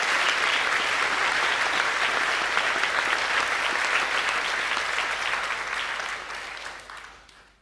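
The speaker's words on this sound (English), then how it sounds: "Can we please give our Year 11 award, subject awards, a round of applause?" Sustained audience applause at an annual academic awards evening, honoring Year 11 subject award winners, with steady dense clapping holding loud and even before tapering off near the end.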